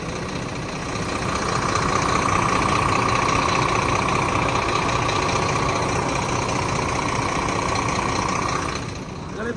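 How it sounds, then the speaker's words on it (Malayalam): A steady, droning engine runs at a constant pace from the rear engine bay of a 430 HP Volvo bus. It is close and moderately loud, then eases off at the very end. "എഞ്ചിൻ ഞാൻ ഒന്ന് കാണിച്ചു തരാം."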